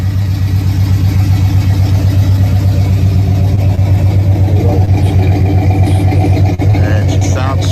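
An all-original, low-mileage muscle car with factory headers, Ram Air and the W30 package idles loudly up close, a deep, steady, lumpy rumble throughout.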